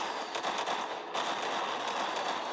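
Explosions from the Skibidi Toilet animation, episode 70, where toilets are blown up and set burning, come as a steady crackling roar with repeated bursts, loud and close throughout.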